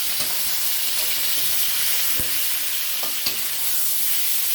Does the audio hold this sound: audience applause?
no